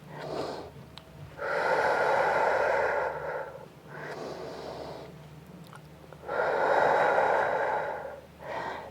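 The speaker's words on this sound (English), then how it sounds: "So breathing out," Deep breathing during a Pilates hip flexor stretch, with long audible exhales and inhales alternating in a slow rhythm, close and clear with no talking.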